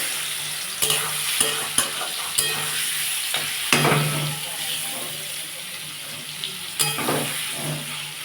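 Olives fry in hot oil for a pickle, a steady close sizzle broken by a few sharp clinks and scrapes of a spoon stirring the pan.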